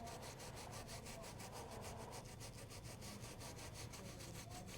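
Quilted fabric brushed with a coarse brush to fluff chenille, quick regular back-and-forth scratchy strokes close by, soft and steady with no voices.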